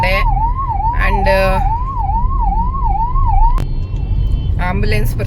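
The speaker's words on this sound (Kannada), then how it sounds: "ಆಂಬುಲೆನ್ಸ್ ಬರ್ತಿತ್ತು, ಸೊ ಅದು ಸೌಂಡು" A loud ambulance siren wails in a rapid up-and-down warble close by over traffic noise, then cuts off, leaving brief horn-like blasts from the street.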